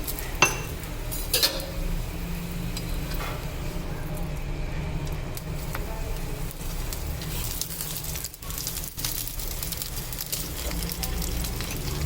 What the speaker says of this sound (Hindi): घी डाल दिया है, अब इसको सेक लेंगे अच्छे से।